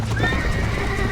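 A horse in the Red Dead Redemption video game on Xbox 360 gives a close, clear neigh that carries on over a short run of clip-clopping hooves.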